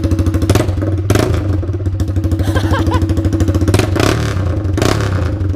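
A Honda CB Twister motorcycle with no exhaust fitted revs loudly and close by, its raw, unmuffled engine pulsing in a steady rapid rhythm with a few surges, continuous throughout.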